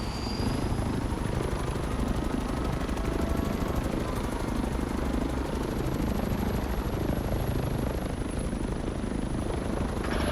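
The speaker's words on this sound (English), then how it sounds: "I'm flying around in a helicopter" A helicopter in a video game flies continuously, its rotor chop and engine whine forming a loud, steady drone that holds unbroken from start to finish.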